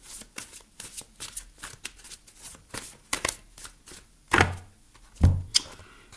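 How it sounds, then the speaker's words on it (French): Tarot oracle cards are shuffled in quick, papery riffles close by, followed by a couple of louder slaps and flicks as cards are drawn and set down; no talking. "On va aller prendre une carte des ailes de la sagesse."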